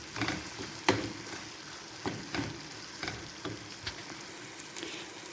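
Potato pieces seasoned with salt, turmeric and red chilli fry in a pan while being stirred. A soft, steady sizzle runs underneath, broken by faint, irregular spatula scrapes and taps.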